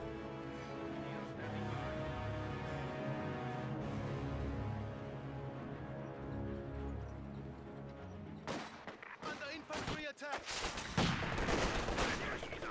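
Guards firing away in a Company of Heroes 2 battle: a clear, rapid crackle of rifle and machine-gun fire with sharp cracks bursts in after a long stretch of steady music and background drone.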